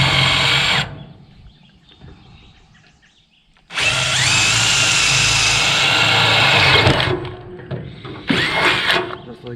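A power drill with a brand new bit bores down through material in a long, loud, steady whine, stopping briefly and then resuming in a short final burst after an earlier drilling spell and a quieter pause.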